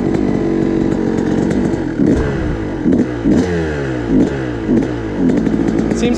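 Kawasaki KX500 two-stroke dirt bike engine running loud and close, blipped through several sharp throttle revs that rise and fall over a rough, raspy idle, with no talking.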